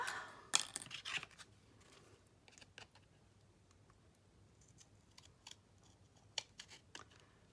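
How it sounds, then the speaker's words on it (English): Larger scissors snip through paper pieces for a handmade Alice in Wonderland journal spine, giving a burst of quick crisp cuts at first, then scattered single snips, close and quiet, with no talking. "I'll use scissors that are a little bit bigger."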